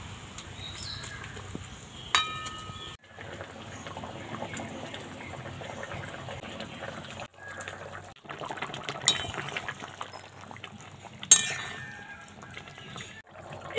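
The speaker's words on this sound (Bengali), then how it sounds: "এবারে এক এক করে মাছগুলো ছেড়ে দেব।" Pieces of katla fish slipped one by one into a pot of simmering curry, with soft liquid splashes and occasional sharp metallic clinks of utensil against pot over a steady low kitchen background.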